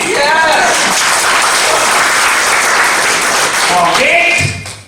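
Loud, steady applause from a seminar audience fills the whole stretch, with a crowd-wide clatter that tapers off at the very end while voices shout over it.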